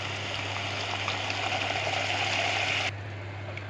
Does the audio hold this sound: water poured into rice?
yes